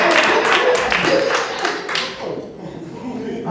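Audience at a comedy club show in Leimert Park claps in a dense, loud burst that thins and fades over a few seconds, with crowd noise and voices mixed in.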